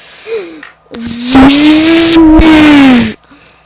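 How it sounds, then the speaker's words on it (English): A go-kart engine whines past up close, its pitch rising and holding steady with some tire noise, then cutting off after about two seconds. "I was driving my go-kart around"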